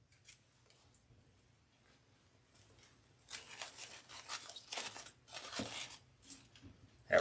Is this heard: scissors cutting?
yes